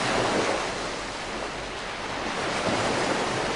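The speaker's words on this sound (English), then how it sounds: "Can you hear the sound of the waves?" Ocean waves wash steadily in a continuous broadband roar, close and moderately loud, with a faint breath of wind and no voices.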